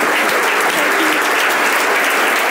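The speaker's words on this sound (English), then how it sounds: "Give her a big round of applause." Loud, continuous audience applause for a speaker, thick and close, unbroken clapping from a full room for the whole stretch.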